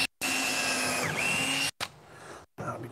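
A power drill drives screws into wooden sideboards being built for a pickup truck: a loud, steady motor whine that dips briefly in pitch under load, then stops, followed by two shorter, quieter runs.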